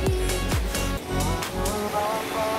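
Fast floodwater after heavy rain rushes in a broad, steady roar near a flooded river, with a couple of low thumps early on and no talking over it.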